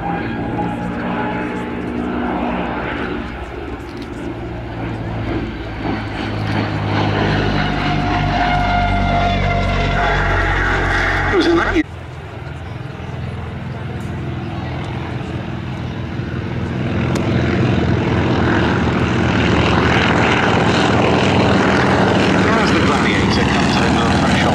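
Restored vintage propeller aircraft making its final display pass at the Duxford summer air show, a steady engine drone heard from a distance and rising in loudness over the pass, with a commentator talking over it.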